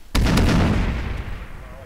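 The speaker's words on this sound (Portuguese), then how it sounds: "Vou mandar a granada" A single loud, close grenade blast in the military shooter Arma 3 hits sharply, followed by a quick secondary crack and a rumbling tail that fades over about a second.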